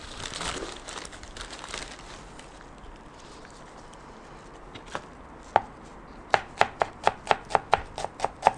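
Knife chopping fresh basil on a board for bruschetta, a quick run of about a dozen sharp, close, evenly spaced taps near the end after quieter rustling.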